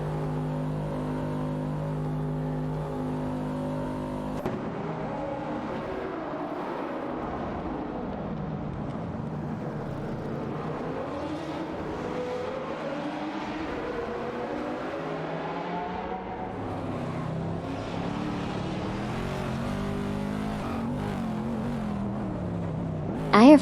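Engines of race cars, including a Lamborghini, competing in a racing video game: several revving engine tones rising and shifting as cars jockey for position, steady and moderately loud throughout.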